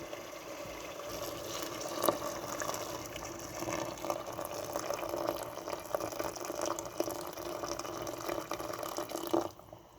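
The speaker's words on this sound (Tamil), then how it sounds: "இப்போ வந்து நம்ம அளவு தண்ணி ஊற்றிக்கிடுவோம்." Water poured into a pot of half-cooked rice for mutton biryani, a steady splashing stream that runs for several seconds and stops abruptly near the end.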